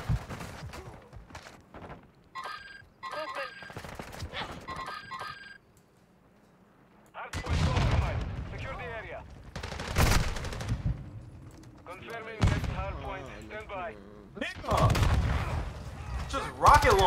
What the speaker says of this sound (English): I'm being like randomly shot at.